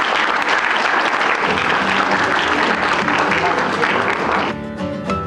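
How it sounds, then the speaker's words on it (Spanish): Sustained applause from an audience honouring officials at a Bolivian public event in 2006, a dense steady clatter of many hands that fades slightly near the end, with voices mixed in. "un aplauso aquí a las autoridades"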